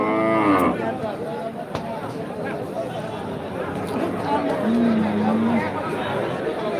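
Cattle moo amid the bustle of the large Kaitla cattle market in Tangail, with a long low lowing call standing out near the end over a steady background of crowd chatter and people talking.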